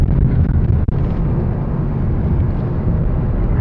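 Deep V8 exhaust drone from a manual-transmission Ford Mustang GT Premium running in Sport Plus mode, a steady, loud, low rumble from inside the cabin with one brief dip before the note carries on evenly.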